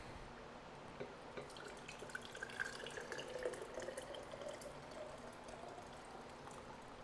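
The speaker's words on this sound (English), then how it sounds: "So I'll go ahead and pour that in." Thick BBQ chicken glaze pours steadily into a mason jar with soft trickling and splashing, quiet and continuous, with no talking.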